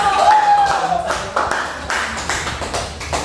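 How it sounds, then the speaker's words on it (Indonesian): A classroom of students claps during a micro-teaching lesson, a short burst of loud, sharp, uneven hand claps, with a voice briefly heard at the start. "beri tepuk tangan"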